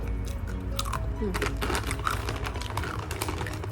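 Crunching bites and chewing on a crispy baked vegetable snack, loud and close, a dense run of brittle cracks over several seconds.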